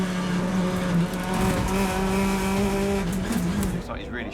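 BTCC 2024 touring cars racing, with Josh Cook passing Ingram on the inside line for second place. Loud, close engine drone with shifting pitch and tyre noise, continuous throughout, with a commentator's voice over it.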